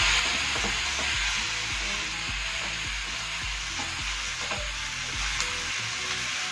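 Onions, green chili and grated ginger gently sautéing in a pan, a steady loud sizzle with occasional soft stirring scrapes and taps, no voices.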